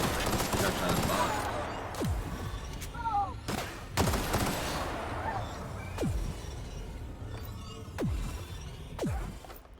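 Rapid gunfire in the video game The Outer Worlds, several sharp bursts and single cracks spread irregularly across the stretch with whooshing and impact noise between them, loud and close.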